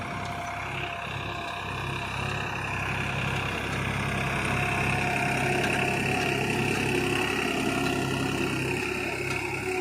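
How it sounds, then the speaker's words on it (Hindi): A New Holland 3600-2 tractor pulling a seed drill during wheat sowing, its diesel engine holding a steady unloaded drone close by, with no talk over it. "ट्रैक्टर की आवाज़ से ही समझ में आ रहा है कि इस पर लोड बिल्कुल भी नहीं पड़ रहा है"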